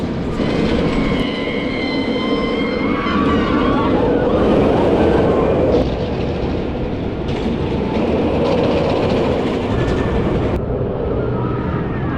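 The Wonder Woman roller coaster at Six Flags Magic Mountain rushes past with a loud rumbling roar and rattling wheels on the track, steady and close for about twelve seconds, with brief high squeals near the start.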